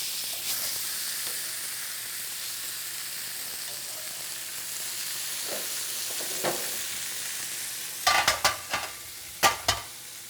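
Salmon sizzles softly in an oiled pan with a steady frying hiss, heard close but fairly quietly. Near the end, a few sharp clicks and scrapes of a utensil against the pan stand out.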